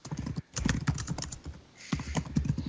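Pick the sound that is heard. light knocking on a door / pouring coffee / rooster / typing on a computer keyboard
typing on a computer keyboard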